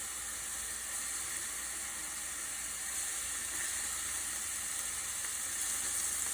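About a dozen peeled, dried shrimp searing in a hot pan, a continuous bright hissing sizzle, close and even throughout with no voices.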